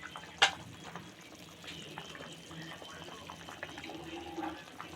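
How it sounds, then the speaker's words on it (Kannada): Vegetables boiling in a pot of water for vermicelli upma: a steady, faint bubbling simmer, with one sharp clink near the start. "ಈಗ ನೋಡ್ತಾ ಇದ್ದೀರಾ ಎಷ್ಟು ಚೆನ್ನಾಗಿ ಒಂದು ಕುದಿ ಬಂದಿದೆ ಅಂತ."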